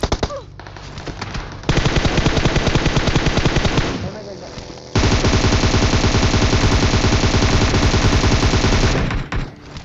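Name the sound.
gunfire in the video game PUBG Mobile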